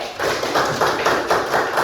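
Classroom applause from students for a classmate, a few rhythmic, unison claps repeating in a steady beat at close range, with no talking over them.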